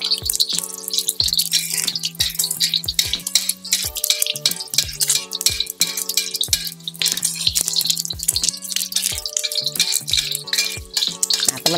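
An egg fries in very hot oil in a wok, giving a dense, continuous crackle and sizzle with rapid pops close by, while a steady rhythmic melodic tone plays underneath throughout.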